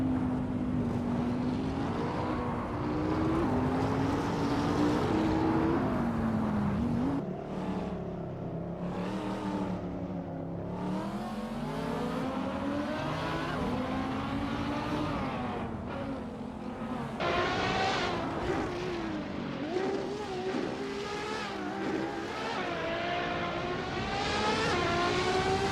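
Race cars in a racing video game scream around the Brands Hatch GP circuit, a 2015 Koenigsegg among them, with loud overlapping engines that rise and fall as they pass and shift gears throughout.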